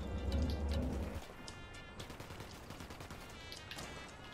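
Gunfire in the video game Ghost Recon Wildlands, scattered rapid shots and bursts at moderate distance after a brief low rumble, fairly faint with irregular rhythm and no talk.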